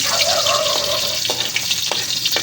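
Onion and garlic sauté in a hot pan with a loud, close, steady sizzle, broken by a few scraping stirs.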